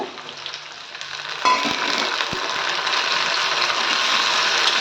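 Tomato sautéing in a pan for garlic kuzhambu: a quiet start, then a sudden loud, steady crackling sizzle with a couple of soft knocks, continuing close and unbroken to the end.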